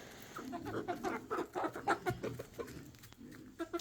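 Laying hens in a backyard pen cluck in repeated short bursts at moderate distance, mixed with faint rustling and scratching.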